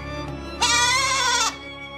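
A goat, alone in a forest, gives one loud, sustained bleat of about a second with a wavering harmonic voice. It rises over a quiet background and stops abruptly.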